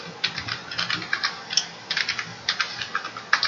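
Rapid clattering keystrokes on a computer keyboard while PL/SQL code is typed, an even run of crisp close taps with short pauses between bursts, no talking.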